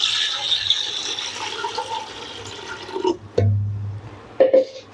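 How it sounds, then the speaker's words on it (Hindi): Water pours into a pressure cooker holding mutton paya, a splashing trickle that runs for a few seconds before some close clunks and handling noises in a kitchen. "अब हम इसमें पानी ऐड कर देंगे।"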